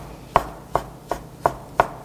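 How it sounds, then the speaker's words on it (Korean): Knife chopping through soaked shiitake mushrooms on a cutting board, five crisp evenly spaced cuts, close and clear with no talk. "이렇게 해서 표고버섯 썰었습니다."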